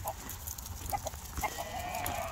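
Farm chickens clucking softly, a scattering of brief, faint clucks and murmurs at modest distance over a low background rumble, with no talking.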